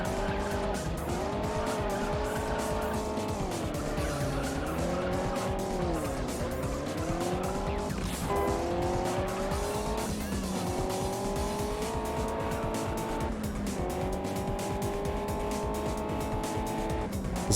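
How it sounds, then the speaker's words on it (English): A racing car's engine screams in the Juiced video game, a loud, steady high-revving tone that climbs and dips through gear changes, with brief pauses at each shift while nitrous is used. "I guess I have to use the rest of my nitrous."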